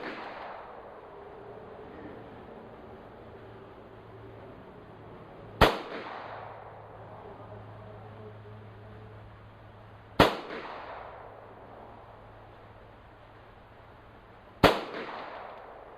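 A .22LR rifle fires Predator 22 ammunition at a 50-metre range. Three sharp, isolated cracks come several seconds apart, each with a brief decay, over quiet outdoor background.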